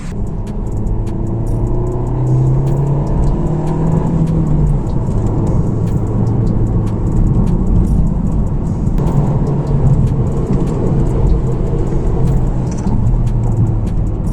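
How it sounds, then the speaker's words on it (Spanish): A 2019 Volkswagen Golf with a 1.4-litre TSI turbo engine accelerates hard with traction control partly off, its engine note rising and falling through gear changes as a loud, steady rumble fills the cabin throughout. "la forma en la que desarrolla velocidad este carro es impresionante"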